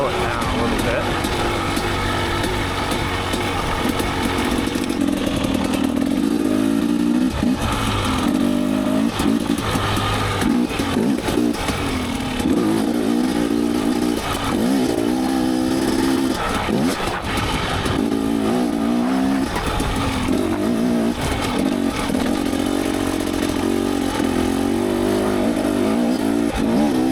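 A dirt bike engine runs steadily while riding up a mountain ridge in Idaho, loud and continuous with shifting revs and wind noise throughout.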